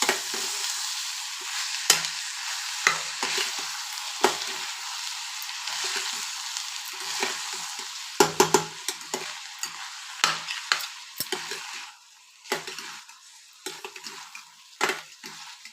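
Sorghum (jowar) grains being stirred in a pot as they cook, a constant soft sizzle broken by repeated scraping and clinking utensil strokes in an irregular rhythm, close and clear with no talking.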